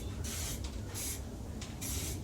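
Short bursts from an aerosol spray can laying primer onto an aluminium panel of a Peugeot J9 van, three hissing blasts with brief pauses between them over a low background rumble.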